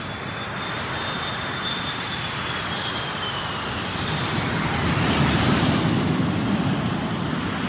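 Twin Pratt & Whitney F-100 turbofan engines of an F-15 Eagle fighter spool up to take-off thrust, a loud continuous broadband jet roar with a rising high whine that builds steadily throughout.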